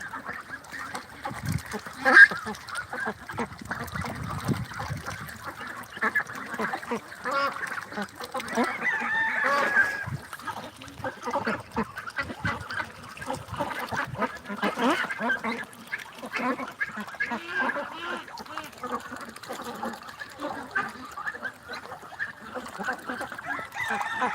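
A flock of about six hundred ducks on a duck farm quacks continuously, a dense, loud chorus of overlapping calls with some honking, close by and without pause.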